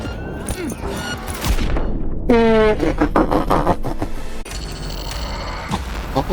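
Gunfire and a grenade blast in the Cyberpunk 2077 video game: rapid automatic bursts and a dense fusillade, with a booming explosion and a rattling mechanical tail, loud and close.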